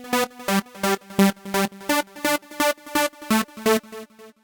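Bright, buzzy saw-wave synth stabs hit in a steady rhythm, about a dozen short chord blasts with brief gaps, ending on a slightly softer hit.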